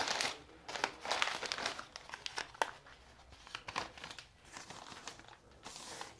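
Paper is crumpled and crinkled by hand while a sunflower bouquet is wrapped, giving close, uneven bursts of crackling rustle with short gaps and no talking.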